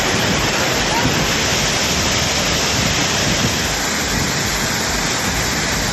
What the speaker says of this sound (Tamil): குற்றாலத்தில் பிரதான அருவியான மெயின் அருவி, ஐந்தருவி, சிற்றருவியில் கடும் வெள்ளப்பெருக்கு ஏற்பட்டுள்ளது